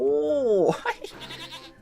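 Goat gives one short, wavering bleat in the Tasty Planet: Final Bite video game, loud and close, followed by a brief burst of voice.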